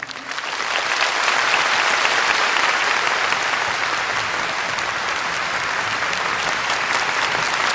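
Audience applause after a speech at a Seonghwa memorial ceremony, a dense, sustained clapping from a large crowd that swells in the first second and holds steady.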